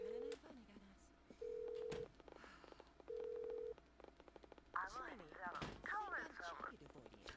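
A telephone in The Sims rings out with three steady, evenly spaced tones separated by pauses, then gives way to chattering game voices and busier sound over the last few seconds.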